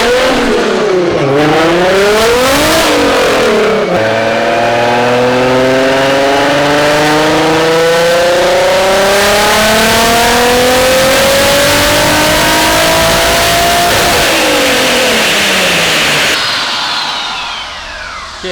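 A four-door Toyota Supra runs on a dyno, its engine climbing through loud, sustained full-throttle pulls with rising pitch across several gears, then easing off near the end.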